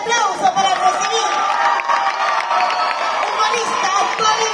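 An audience at a live comedy show claps and cheers loudly, with shouts and whoops over steady clapping from start to finish.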